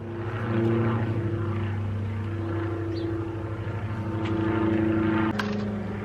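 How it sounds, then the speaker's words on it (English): A propeller airplane drones steadily overhead, a loud sustained engine hum with a slight pulsing throb, alone without voices. "We'll just wait for the plane to fly over."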